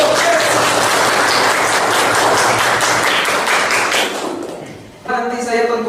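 Students in an Indonesian-language classroom applaud together, a dense continuous burst of many hands for about four seconds that tails off before voices and chatter take over.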